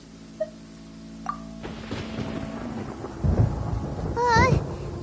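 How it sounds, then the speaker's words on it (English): Thunder in the video game Genshin Impact rumbles and builds in a long, loud roll after a few faint chimes, swelling toward the end with no speech over it. "Paimon hears thunder!"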